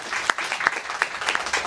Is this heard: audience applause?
yes